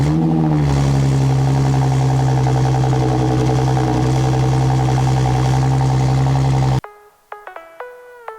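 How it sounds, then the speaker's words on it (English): Audi S4 B8.5 engine on a cold start, a loud steady idle with a raised, droning hum that runs for about seven seconds and then cuts off abruptly, followed by a few faint, sparse tones. "let's get some heat in the engine. I'll get a little cold start for you guys"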